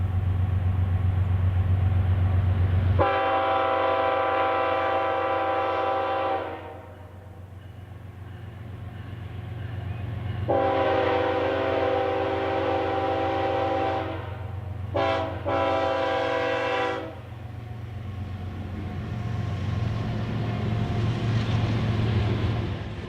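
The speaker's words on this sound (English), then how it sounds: "A hotshot intermodal train slides downhill and around the S-curves on BNSF's Thayer North Subdivision at Cedar Gap, Missouri" A BNSF hotshot intermodal freight train descends through the S-curves at Cedar Gap, Missouri, blowing long, loud horn blasts (one long, then a long and two short) over a rolling rumble that fades and returns.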